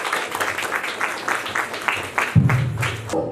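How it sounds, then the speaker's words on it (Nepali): An audience applauding at an anniversary ceremony, a burst of clapping that swells and carries on for a few seconds, close and fairly loud. "जोरदार ताली बजाइदिनु म हार्दिक अनुरोध गर्दछु।"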